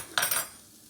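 A metal spoon clinks against a pan on a stovetop, one short bright clatter with a quick second touch, close by, then fading into quiet kitchen room tone.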